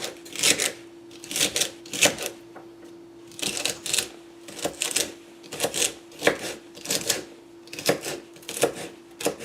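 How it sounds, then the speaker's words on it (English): Rapid, rhythmic knife chops dicing tuna salad ingredients on a cutting board come in quick bursts with short pauses, close and crisp, with no talking. "Dice this up."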